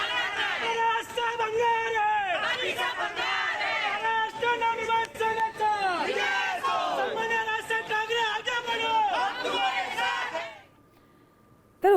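Party workers cheering and celebrating at a rally, a loud crowd of many voices shouting and whooping together continuously before it cuts off near the end.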